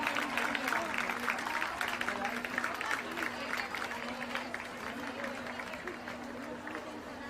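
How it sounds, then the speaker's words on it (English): A crowd of schoolchildren cheers and claps at an annual school sports meet, a continuous mix of applause, shouting and chatter heard from a distance. "I think all the other houses also should cheer for them"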